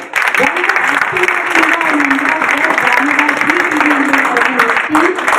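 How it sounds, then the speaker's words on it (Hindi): Crowd at an awards ceremony applauding for a child, loud continuous clapping with a voice talking over it throughout. "खूब सारी तालियां बच्चे के लिए."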